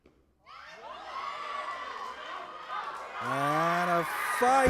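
Spectators at a youth and junior weightlifting championship roar and cheer as an athlete completes a final lift, the crowd noise swelling and building while a commentator talks over it.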